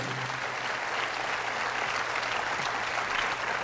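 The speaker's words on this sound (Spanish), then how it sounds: "Fuertes aplausos a la palabra de Dios." A church congregation applauds after a scripture reading at a Catholic priest's service, dense steady clapping from many hands filling the room at a constant level throughout.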